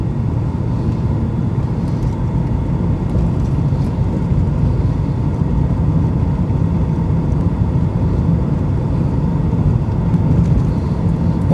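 A pickup truck engine pulling uphill at about 1,200 RPM in high range, a steady, loud low droning hum that holds unbroken and even throughout with no speech.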